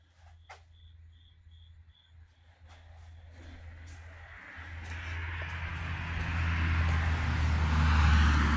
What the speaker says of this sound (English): Car's going down the road there.